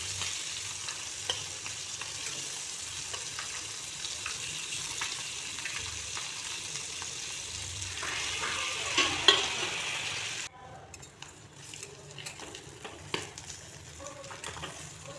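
Duck eggs fry in oil in a wok, giving a steady close sizzle with occasional stirring scrapes; the frying noise drops somewhat toward the end.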